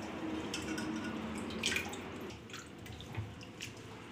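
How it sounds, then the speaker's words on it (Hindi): Pieces of petha (ash gourd) are rinsed in water in a kitchen, with a continuous soft sloshing and trickling plus occasional drips, close but quiet and without talk. "तीसरा बार फिर से इसे धो लेंगे।"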